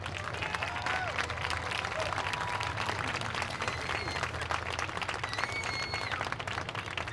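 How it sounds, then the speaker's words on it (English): A crowd at a high school football game gives sustained applause and cheering for the senior players, a dense wash of clapping with scattered whistles and shouts that carries on without a break. "let's have one more round of applause for your 2024 football seniors"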